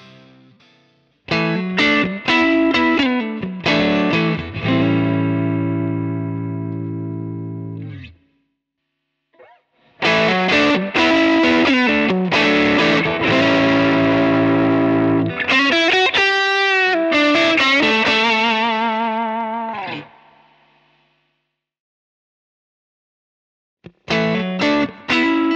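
Electric guitar played through a Halcyon Green Overdrive pedal, driven riffs and sustained chords with bends that ring out, then pause and resume, alone without talk.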